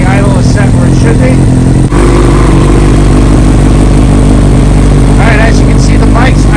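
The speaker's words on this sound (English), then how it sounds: "as you can see, the bike's idling perfectly." A Project R1 motorcycle engine sits at a steady idle after warming up, a loud low throbbing rumble close by, with someone talking over it.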